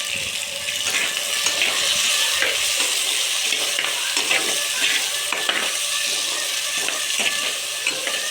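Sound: tomatoes and onions sautéing in a pan for fish curry

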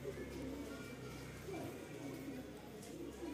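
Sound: Rampuri pigeon

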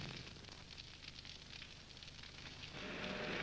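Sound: burning ship on fire at sea, in a film

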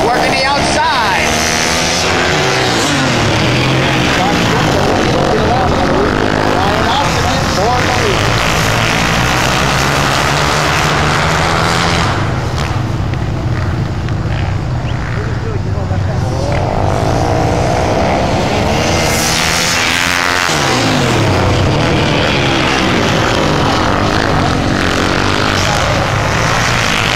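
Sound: race cars side-by-side racing on track

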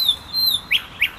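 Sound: birds singing at night in Grozny

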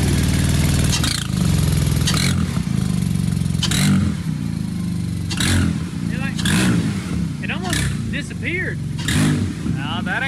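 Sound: vehicle engine starting up and running

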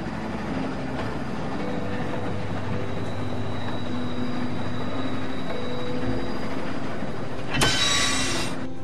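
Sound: train moving on rails in The Walking Dead video game

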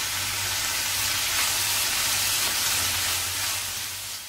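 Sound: kofta and carrots frying with onion in a pan

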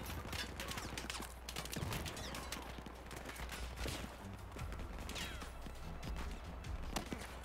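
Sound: gunfire in video game Battlefield 4

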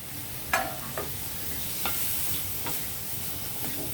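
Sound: raw banana pieces, curry leaves, green chillies sizzling in pan

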